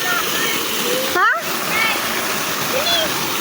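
Water pours steadily from a fountain at a private resort pool, a continuous splashing rush that stays close and loud throughout, with faint voices underneath.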